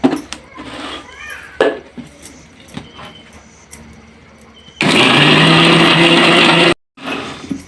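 A mixer grinder whirs loudly and steadily for about two seconds, grinding roasted ingredients with a little water, then stops abruptly, after some clattering handling noises.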